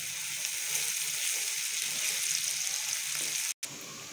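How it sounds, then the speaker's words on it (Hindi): Garlic ginger paste frying with chicken in a pan, a dense continuous hiss and sizzle, close and steady, briefly cut off near the end, no voices. "इसको हम लोग अच्छी तरह से फ्राई कर लेते हैं इसके साथ।"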